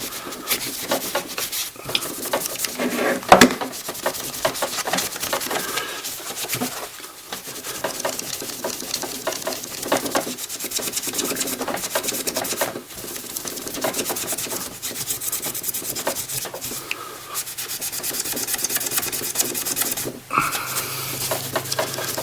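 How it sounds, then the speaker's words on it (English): A magic eraser rubs paint off a gun to give it a worn vintage look, making a steady, close scratchy rasp that continues with small pauses throughout. "this magic eraser, kind of does it gradually. It's not going to rub it off too quickly."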